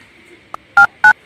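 Two loud electronic mobile phone keypad tones beep in quick succession after a small click, with a faint steady hum underneath.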